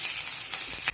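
Garlic, ginger and green chillies fry in a mix of ghee and oil with a steady, close hiss of sizzling that holds loud throughout, briefly swelling near the end.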